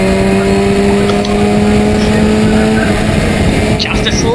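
Historic Formula Ford race cars at Brands Hatch roar past in a loud, continuous engine drone with steady pitch, briefly easing off near the end, a commentator talking throughout.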